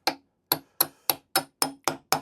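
Eight sharp hammer blows driving a carriage bolt's square shoulder into wood, evenly spaced and loud at close range, each a crisp knock with a short ringing tail.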